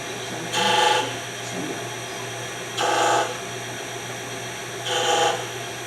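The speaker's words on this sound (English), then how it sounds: "I use a skew to taper stuff to taper." A skew chisel cuts a taper on wood spinning on a lathe, making three short scraping, hissing bursts about two seconds apart. A steady motor hum runs underneath, and no one talks.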